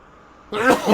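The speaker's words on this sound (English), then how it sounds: "No, I'm going to sneeze." A person sneezes once, a sudden loud burst after a half-second of near silence, followed by a trailing breathy release, close to the listener.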